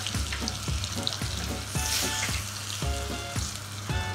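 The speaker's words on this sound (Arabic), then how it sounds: "تشويحة" Fried garlic with cumin and coriander sizzling in a pan, a steady bright crackle broken by regular soft knocks of stirring, close and alone with no talk.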